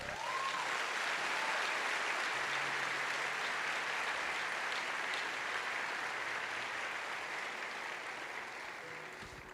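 A church congregation applauds in a long, continuous roar of clapping that stays loud and uniform, easing off slightly near the end.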